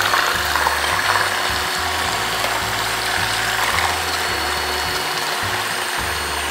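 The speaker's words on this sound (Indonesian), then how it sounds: "Kita mixer dengan kecepatan tinggi." An electric mixer runs at high speed while ice cream batter is blended, giving a continuous whirring drone with a rhythmic, chugging low pulse throughout.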